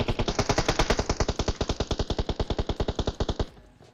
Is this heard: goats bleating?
no